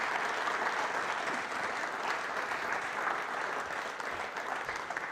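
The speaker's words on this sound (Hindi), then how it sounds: "तालियां बजाइए फिलहाल इनके लिए आप।" Steady applause from a large audience at a university quiz show, a dense continuous clatter of many hands filling the room without pause.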